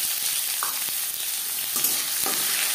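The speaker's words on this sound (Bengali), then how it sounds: "10-15 সেকেন্ড 5 ফোড়ন ভেজে নেওয়ার পর দিয়ে দেবো পেঁয়াজ কুচি।" Chopped onion hitting hot refined oil with five-spice (panch phoron) for a restaurant-style chana masala. Loud, bright, continuous sizzling fills the brief moment, with a few soft stirring knocks.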